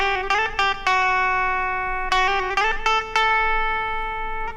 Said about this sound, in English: we got some distortion that I plugged in through my little amp. It's a Fender 15G.